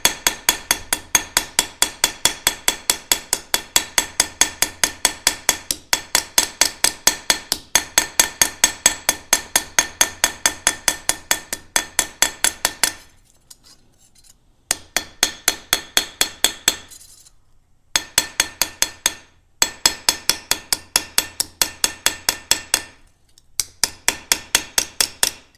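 A hammer texturing a copper feather, a rapid, even series of sharp metallic taps close up, broken by a few short pauses before the tapping resumes.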